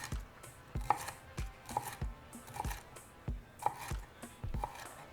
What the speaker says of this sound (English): And now just cut into strips.